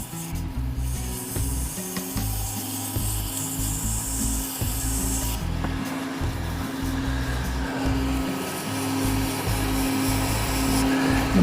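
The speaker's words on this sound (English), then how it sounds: "give the top a bit of a sand up" Wooden shaving brush handle being sanded on a wood lathe: a steady, continuous whirring hum and rubbing texture throughout, close and fairly loud, with no talking.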